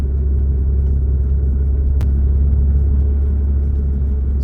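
Steady low car engine rumble from inside a vehicle pulling away from a traffic light on a road in Lower Sackville, Nova Scotia, a continuous drone with one brief tick partway through and no voices.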